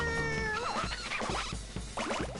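Cats meow in Katamari Damacy, several rising and falling game-voiced meows in quick succession, close and clear after a brief musical tone, with no talking.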